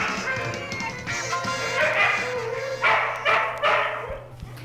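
Several dogs barking and yipping inside a dog pound in a 1980s children's radio play, overlapping close barks in bursts with whimpers between.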